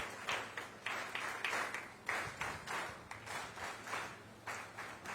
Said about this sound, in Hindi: आपका तालियों से अभिनंदन